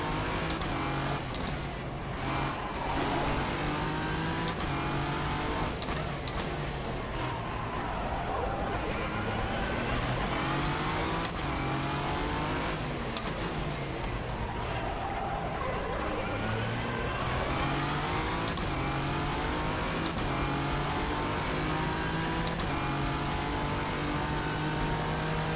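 Race cars in a sim racing video game at Estoril, a steady layered engine drone with several overlapping whines rising and falling throughout, plus occasional sharp clicks, under continuous game audio at moderate level.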